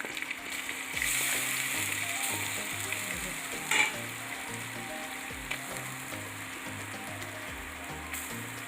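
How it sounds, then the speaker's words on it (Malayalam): Grated coconut and fish cook as fish peera in a pan over a low flame, giving a steady soft sizzle and crackle with a brief scrape of stirring near the middle, close-up and free of speech. "നന്നായിട്ട് ഇളക്കി കൊടുക്കാം നമ്മുടെ ഈ പീര നെയ്യാർക്ക് തേങ്ങ അതിലേക്ക് ഇട്ട് കൊടുക്കാം"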